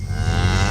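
Cattle on a drought-stricken farm outside Davenport, Iowa, give a single loud, close, sustained moo that fills the brief moment on its own.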